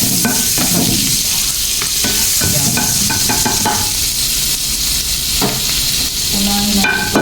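Butter and a little oil sizzle loudly in a hot pan while sisig bangus is being prepared, a steady frying hiss with scattered clinks and stirring scrapes throughout, with no talking.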